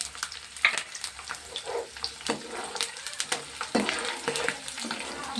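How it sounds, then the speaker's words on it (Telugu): Garlic and curry leaves frying in hot oil in a pan, a steady soft crackling sizzle with scattered sharper pops and faint stirring scrapes throughout, no talking. "నూనె కాగింది, ఎల్లుల్లిపాయలు వేసుకోవాలి ముందు"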